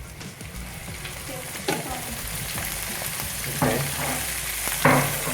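Cucumber and weaver ant mixture being stirred in a pan, a steady sizzle with scraping strokes at intervals, plus a brief spoken word.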